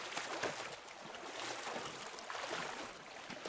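Sea waves in a Cast Away film scene: a broad, rolling wash of water with gentle swells rising and falling, steady and moderately soft, without voices.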